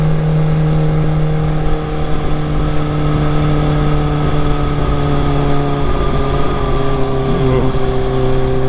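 A Kawasaki H2 supercharged motorcycle of 280 hp revving hard, a loud steady engine drone with a faint high whine on top, heard from the rider's position, with someone talking over it.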